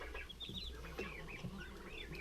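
Hens and several cockerels cluck and chirp continuously in the early morning, with several birds calling over one another at moderate distance against a low, steady background rumble.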